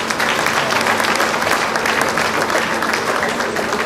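A crowd at a grand government reception for President Tinubu in Lagos applauds steadily, a dense, even wash of clapping held at full strength throughout.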